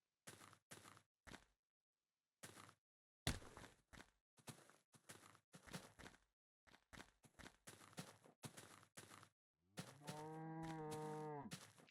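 A Minecraft cow gives one long, loud, close moo near the end, after a stretch of intermittent footsteps and block sounds separated by silences.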